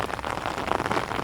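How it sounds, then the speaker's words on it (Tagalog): Heavy rain falls steadily on surfaces around a farm field, a dense, even patter that is close and moderately loud with no voices over it. "Maulan, malakas na ulan."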